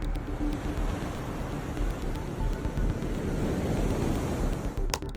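Crashing ocean waves surge around a whale rising and splashing back into a violent sea, a steady loud roar of surf with wind rumble throughout and a sharper splash near the end.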